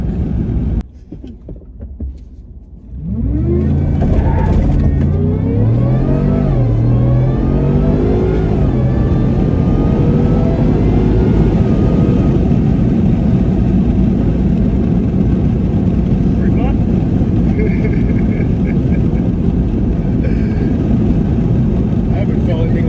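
A supercharged Ford F-150 pickup engine roars up from a lower hum into sustained hard acceleration, the revs climbing and holding loud and close inside the cab, with people talking over it.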